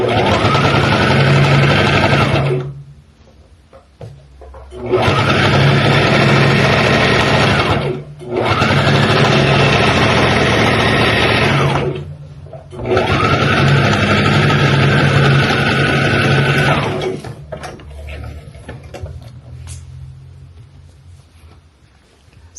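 A sewing machine runs a straight stitch on an abaya in four loud, close bursts of several seconds each, separated by short pauses, with the last run fading out.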